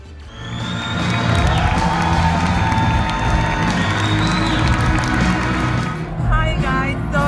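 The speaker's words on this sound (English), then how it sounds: "Now one last round of applause for Eddie Slimane." A fashion show audience at a Celine runway gives a last round of applause, with sustained loud clapping, cheering and whoops from a large crowd and music continuing underneath.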